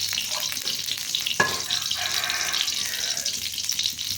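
Mustard seeds crackle and fry in hot oil in a pan, a steady close sizzle with a sharp pop near the start and faint spattering throughout, no voices.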